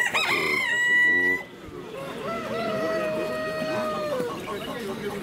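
A rooster crows loudly up close, followed by another drawn-out crow with hens clucking and chattering in the background, at a bird market in Kropotkin.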